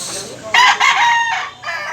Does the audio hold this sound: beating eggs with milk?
no